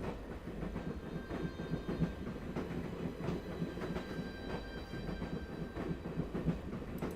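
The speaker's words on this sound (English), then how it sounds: "we're in the train. In the train to Scotland." A train to Scotland rolls along rails in Broken Sword, with a steady low rumble and rhythmic clickety-clack of wheels over track joints, continuous and moderately loud.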